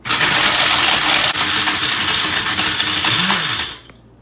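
Blender crushing ice for a snow cone, a loud, harsh grinding roar that runs steadily for several seconds, briefly dips, then cuts off near the end.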